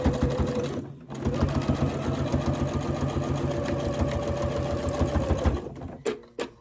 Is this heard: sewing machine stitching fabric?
yes